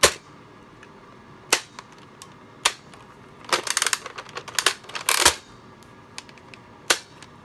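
A Nerf Mediator blaster slam-fires foam darts, producing sharp isolated clacks and a rapid cluster of snapping shots mid-way, loud and close with no talking.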